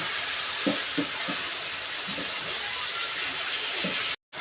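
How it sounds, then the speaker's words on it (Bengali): Fish frying with green chilies in a pan gives a steady, even sizzle throughout, with a few soft stirring knocks and a brief cut near the end. "কাঁচা মরিচ দিয়ে কিন্তু আমি রান্না করতেছি দেখেন"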